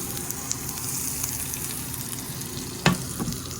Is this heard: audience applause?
no